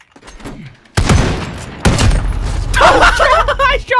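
Gunshots in the Modern Warfare video game: loud, heavy bursts of gunfire and impacts crash in twice, filling the mix, with players shouting and talking excitedly over and around them.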